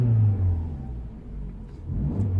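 A Fiat Tipo car engine revs up and settles, a low steady rumble that dips in the middle and rises again, close and alone without talk.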